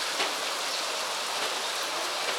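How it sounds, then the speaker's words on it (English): Heavy rain pours steadily in Nepal, a dense, even hiss of falling water that fills the scene without pause or voices. "And it's raining cats and dogs."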